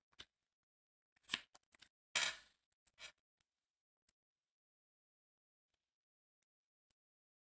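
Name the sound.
tarot cards being drawn from a deck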